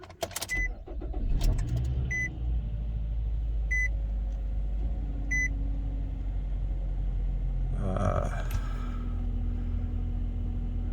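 A 2012 Nissan Rogue with a mass air flow sensor problem is started from inside the car: an ignition chime beeps several times, then the starter cranks and the engine catches and settles into a steady idle rumble.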